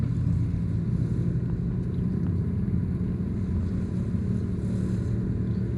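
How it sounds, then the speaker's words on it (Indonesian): Loud aftermarket exhaust on a motorcycle riding behind, on the road from Bukittinggi to Padang Panjang in West Sumatra, giving a continuous heavy low rumble mixed with wind buffeting, steady and close throughout. "Di belakang ada motor knalpot brong, sangat mengganggu, sangat berbahaya, dan jelas melanggar aturan."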